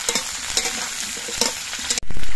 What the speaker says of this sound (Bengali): আমি আলু আর শিমগুলো একসঙ্গে ভাজছি